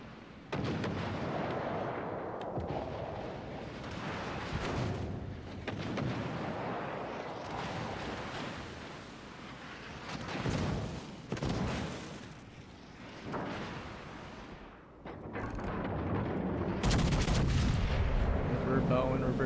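Naval gun salvos in the warship battle game World of Warships Legends, loud booming blasts rolling one into another over a constant battle rumble, close and heavy throughout.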